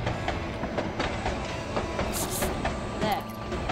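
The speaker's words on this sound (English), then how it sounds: "C'est chou quand il y a un train qui passe ici" A train passes in the video game The Night of the Rabbit, steady rumbling with rhythmic clickety-clack of wheels at moderate volume.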